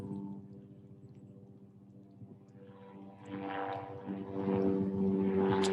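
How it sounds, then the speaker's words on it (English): A low, pulsing rotor drone that grows louder as the aircraft passes close overhead, with a brief murmur of a voice underneath. "as I start recording, a helicopter flies over"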